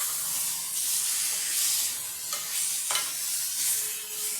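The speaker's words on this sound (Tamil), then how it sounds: "அந்த மசாலா போக கொஞ்சம் வதக்கி கொடுப்போம்" Ground masala paste for a Karaikudi-style paneer curry sizzles and hisses in a pan, with steady frying crackle and occasional stirring scrapes, close and moderately loud with no talk.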